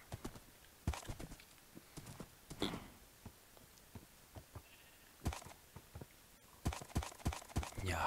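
Horse in the Minecraft video game, with a scatter of short hoof clops and brief snorty calls spread irregularly over several seconds, fairly quiet against a low background hiss.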